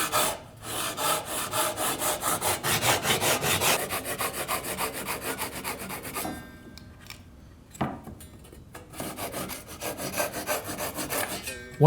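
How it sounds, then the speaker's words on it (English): A handsaw cuts wood for hand-cut joinery in quick, steady back-and-forth rasping strokes, loud and close, that pause after about six seconds and then resume more unevenly. "cutting joinery is always something I will do by hand"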